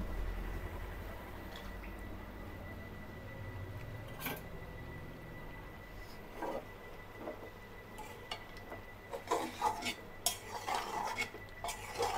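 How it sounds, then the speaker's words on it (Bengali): Salt being stirred into a pot of meat curry, with a spoon scraping and clinking against the pan in uneven, close-up strokes that grow busier toward the end, over a low kitchen hum and no talk. "দিয়ে দিলাম লবণ। এখন ভালো করে মিশিয়ে নিব।"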